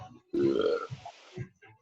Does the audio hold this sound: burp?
yes